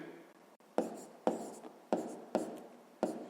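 Pen or pencil writing numbers on paper during a fifth-grade math exercise: a handful of short distinct strokes and taps at irregular intervals, close and quiet, with no talk.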